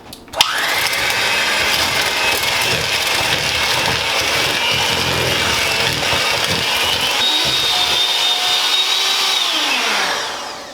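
An electric hand mixer creaming cookie dough ingredients in a bowl, switching on with a sharp start into a loud steady whir that runs for several seconds, then winds down, with no talk over it.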